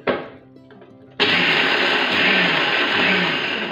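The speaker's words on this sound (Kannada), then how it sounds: "ಕಡಲೆ ಬೀಜ ಸಿಪ್ಪೆ ಸುಲಿದಿದ್ದು ಇದನ್ನು ಮಿಕ್ಸಿ ಹಾಕ್ಕೊತೀನಿ" A kitchen mixer grinder starts up abruptly after a quiet moment and runs loud and steady, whirring and grinding a batch of peeled peanuts close by.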